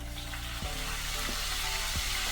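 Chicken sizzles and crackles in hot oil, a steady close frying hiss with a couple of soft stirring knocks.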